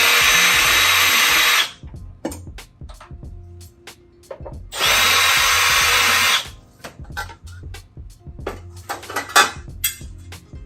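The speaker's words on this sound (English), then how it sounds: "We'll just take these off with a drill." A power drill whirs in two sustained bursts, each lasting a few seconds, removing panel screws from a hot water heater, with clinks and light metallic handling noises in between.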